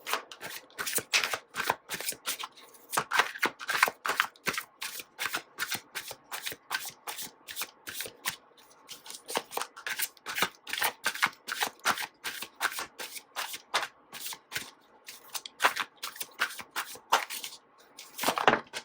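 Tarot cards being shuffled by hand, rapid riffling bursts repeating in quick rhythmic runs with brief pauses, close and crisp, no speech.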